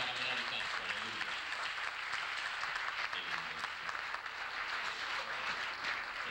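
A church congregation applauds for a singer, a continuous, even spread of many hands clapping at moderate distance, with voices mixed in beneath it.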